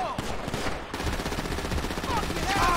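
Rapid gunfire in GTA 5 during a firefight, dense overlapping shots crackling continuously at close range amid game ambience.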